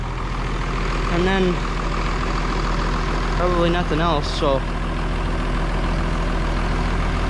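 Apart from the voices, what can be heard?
farm tractor engine idling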